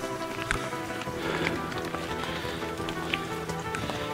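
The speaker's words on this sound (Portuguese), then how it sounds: "Entretanto começou a chover." Steady rain patters on a walking trail along a pilgrimage route, a dense even hiss with scattered drops, no voices.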